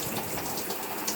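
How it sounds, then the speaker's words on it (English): Water runs steadily from a tap while hair is rinsed, a continuous close hiss and splash with no talking. "Go ahead and rinse."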